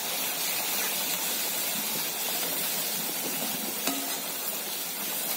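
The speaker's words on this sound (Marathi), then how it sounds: "थोडंसं असं बारीक गॅसवर शिजून घ्यायचा आहे मसाला सगळा" Masala with coconut paste frying on a low gas flame, a soft steady sizzle and hiss with faint crackles, continuous and close.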